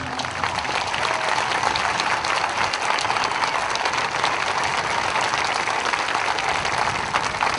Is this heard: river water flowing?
no